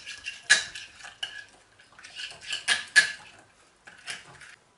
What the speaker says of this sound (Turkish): Sosumuzu karıştıralım.